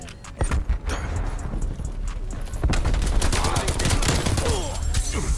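An M60 light machine gun fires in sustained rapid bursts in Call of Duty: Cold War, a dense, steady rattle of shots that carries on with a voice talking over it.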